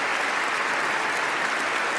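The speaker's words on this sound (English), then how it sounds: "A standing ovation and thunderous applause from the assembled guests here in Oslo City Hall." Dense, thunderous standing-ovation applause from a large crowd at the Nobel Peace Prize ceremony in Oslo City Hall, continuous and even, many hands clapping at once with no voices standing out.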